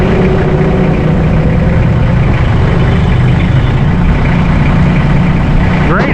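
A Massey Ferguson 1825E compact tractor with front loader idles steadily throughout, a continuous low rumble with constant loudness; a voice talks over the engine.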